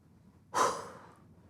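A single slow breath taken alone during a guided meditation, soft and close, swelling quickly and then trailing away into quiet.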